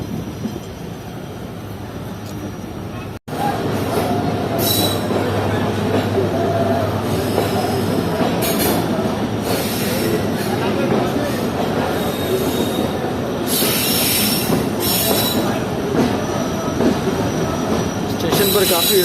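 Shah Latif Express pulling into platform 1 at a crowded station on its inaugural Karachi to Mirpurkhas run, with loud continuous rumble and high wheel squeal rising in bursts as the train rolls in close by.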